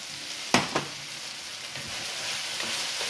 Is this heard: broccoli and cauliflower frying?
yes